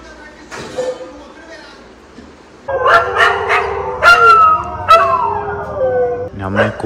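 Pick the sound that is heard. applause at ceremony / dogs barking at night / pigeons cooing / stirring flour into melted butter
dogs barking at night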